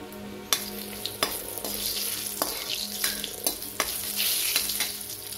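Spices such as cinnamon, red chilli and bay leaf hiss and crackle in hot oil for a tadka, with several sharp pops and clatters over a constant sizzle, close up and with no voices.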